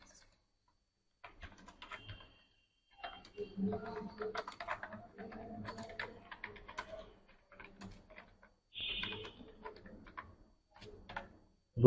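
Computer keyboard typing in a word processor, soft irregular key clicks in short bursts and pauses, fairly close and quiet, with occasional faint background noises.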